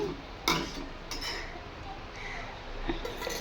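A spoon scrapes and clinks against a pot while chicken is stirred with whole onions, potatoes, carrots and spices, giving a few sharp metallic knocks over a soft, low background.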